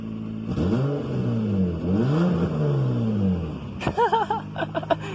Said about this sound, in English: I'll rev it